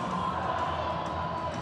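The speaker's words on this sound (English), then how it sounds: "It is just a shootout match, and the crowd, you can hear it." An arena crowd at a FIRST robotics competition shootout match makes a dense, steady roar of cheering and shouting, continuous and fairly loud throughout the short stretch.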